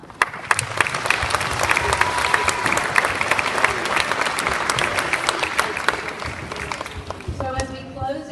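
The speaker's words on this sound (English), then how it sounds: "Give them a round of applause." Sustained applause from a large crowd at a sixth-grade school awards ceremony, dense clapping that fills the space and holds steady for several seconds, with a voice cutting in near the end.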